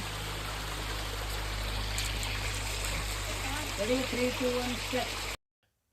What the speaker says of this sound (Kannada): ಗಿಡಕ್ಕೆಲ್ಲ ನೀರು ಬಿಟ್ಟಿದ್ದಾರೆ ಫುಲ್ಲು